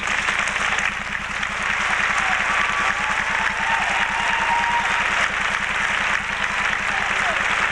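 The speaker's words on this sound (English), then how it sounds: "Please join me in applauding our guests this evening." An audience at a 1997 SUNY Broome commencement ceremony applauds guests with sustained, dense clapping that holds steady throughout the hall.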